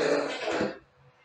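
A man gives a raspy, chesty cough or throat-clearing burst close by, lasting under a second before trailing off into quiet room tone.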